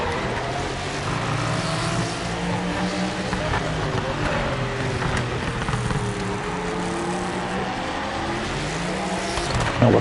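LMP and GT race cars accelerating on the Imola circuit, steady loud engine drone with several pitch sweeps as cars pull away, under continuous commentator speech.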